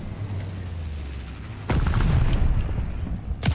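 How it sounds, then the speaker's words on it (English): A grenade goes off in the video game Call of Duty: Vanguard as a sudden deep boom that cuts through a steady background rumble, followed by rumbling debris and a second sharp burst near the end. "I'm throwing a grenade."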